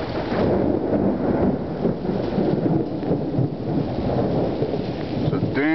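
Steady roar of a heavy early-morning thunderstorm with lightning and hail, continuous rumbling thunder and dense rain filling the whole stretch at high volume, with a brief crackle near the end.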